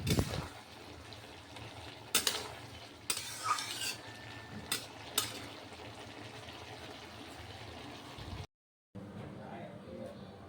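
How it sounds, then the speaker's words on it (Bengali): Small fish and potato curry being stirred gently in a pan, with soft scraping and sizzling strokes at intervals and a quiet frying hiss underneath, followed by a brief silence. "মাঝে মাঝে একটু হালকা হালকা করে নেড়ে দিচ্ছি"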